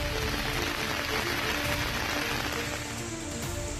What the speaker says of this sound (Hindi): सोमवार रात 8 बजे से तेज बारिश का दौर शुरू हो गया